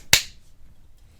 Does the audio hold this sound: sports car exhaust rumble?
no